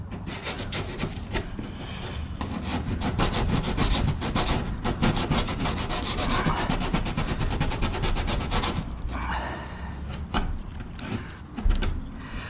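Sandpaper worked by hand over a car body panel on a Cobra Daytona replica build, giving a loud, steady back-and-forth rasping scrub close up that runs for most of the stretch before easing off near the end.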